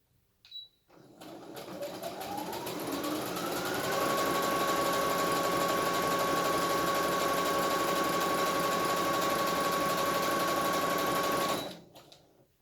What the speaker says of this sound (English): I'm only going to sew everything off down this edge